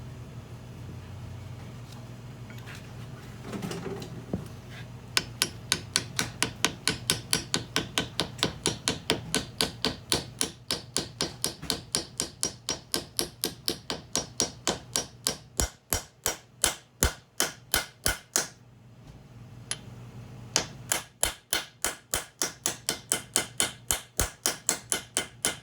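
Rapid, steady hammer taps drive a seal into the rear axle housing of a 2001 Honda 250ex ATV. The strikes are sharp and close, with a brief pause partway through before the tapping resumes. No one speaks.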